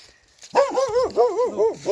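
A village guard dog in Slovita, Lviv region, barks and yelps close and loud in a quick series of rising and falling bursts after a short quiet start.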